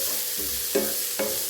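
Sliced onions with a pinch of salt sizzle steadily while sautéing in a pan for a cucumber thoran, with two or three distinct scraping stir strokes.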